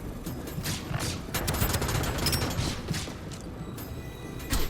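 Rapid bursts of automatic gunfire from the shooter game Deadzone: Rogue rattle almost continuously, with mechanical clatter and a sharper volley near the end.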